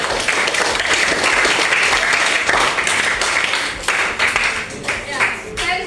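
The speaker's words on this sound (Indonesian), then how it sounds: "kasih tepuk tangan" Loud classroom applause from a group of students at an Indonesian high school, brisk clapping close by that thins into scattered individual claps toward the end.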